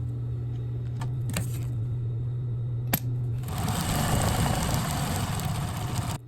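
A sewing machine stitches down glued fabric for a checkbook wallet. A low hum and a few clicks come first, then the machine runs with a steady, close whir for the last few seconds.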